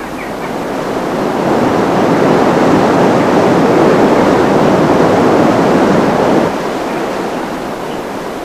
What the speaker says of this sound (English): with the river gaining in power from late summer rains